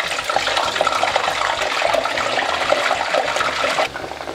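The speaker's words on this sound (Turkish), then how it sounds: "Yavaş yavaş kızarıyor gördüğünüz gibi." Frozen potato fries frying in a pan of hot oil, giving a steady dense sizzle and crackle that runs close and loud throughout, then drops a little toward the end.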